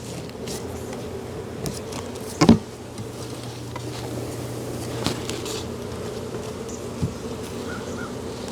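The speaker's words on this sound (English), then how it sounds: "Get most of the bees off." Bees buzz steadily during a cutout of a hive from a structure, a continuous close droning hum throughout, with a few knocks and a brief louder thump from the work, no talking.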